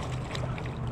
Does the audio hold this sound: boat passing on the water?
yes